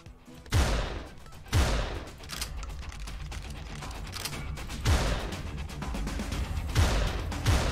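Gunfire from the horror shooter GoryTale, with sharp loud shots spaced a second or so apart over a continuous clattering rattle of rapid fire and game noise.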